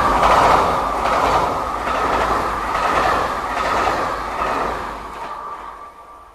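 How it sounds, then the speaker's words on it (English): A TGV train rolling into the station, a loud, steady rumble of wheels on rails with clattering rhythm and a faint squeal, close by and alone, easing off at the end. "Le TGV numéro 424, départ initialement prévu à 20h12, entrera en gare,"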